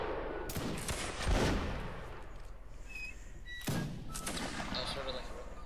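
Musket volleys crack out in a line battle game, a ragged burst of overlapping shots followed by a second sharp volley a few seconds later, with distant firing in between.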